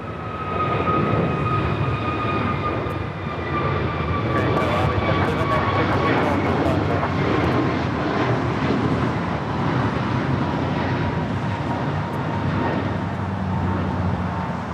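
An American Airlines Airbus A321neo jet takes off at LAX with a sustained, loud engine roar and a high whine. Radio chatter and talk run over it throughout.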